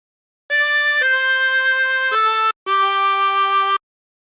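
Chromatic harmonica plays the second phrase of Amazing Grace as four sustained, clear reedy notes in a slow melodic line, close and alone with a brief breath gap before the last long note.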